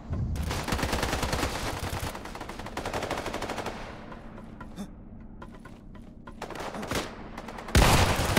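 Rapid bursts of shotgun fire from the Islands of Nyne battle royale game, dense overlapping blasts running almost continuously with brief gaps, then a sharp loud burst at the end.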